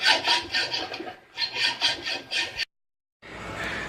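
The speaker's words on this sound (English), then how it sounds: "With a hacksaw." A hacksaw cuts square steel stock in slow, steady rasping strokes, loud and close, about seven back-and-forth passes, then a brief pause before the sawing starts again.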